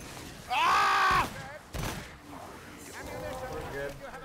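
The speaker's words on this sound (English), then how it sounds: "Nice shotgun." Shotgun fire in the co-op action game Vermintide 2, a loud burst followed by another short blast, with game noise and players talking afterward.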